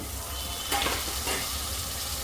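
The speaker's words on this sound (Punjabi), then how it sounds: "ਹੁਣ ਅਸੀਂ ਤੜਕੇ ਦੇ ਵਿੱਚ ਆਲੂ ਪਾ ਦੇਵਾਂਗੇ" Potatoes frying in an onion-tomato tempering with turmeric and spices for a potato, carrot and pea curry, heard as a steady close sizzle with a brief rush of stirring scrapes early on and no talking.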